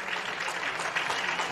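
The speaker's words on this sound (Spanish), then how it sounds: "El aplauso y la despedida de los jugadores con el público" Dense applause from a large football stadium crowd greets the players at the end of the season, a continuous roar of clapping that sounds broad and somewhat distant.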